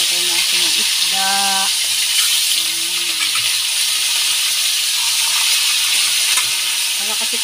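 Fish sizzles steadily in a frying pan of hot oil, a constant close hiss under brief snatches of a voice, while cooking tinola with malunggay.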